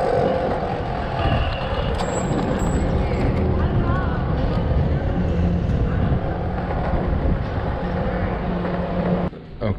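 A skateboard with a worn, noisy board rolls along a San Francisco street, giving a loud, steady rumbling roar that runs nearly the whole time, with a brief talking voice over it.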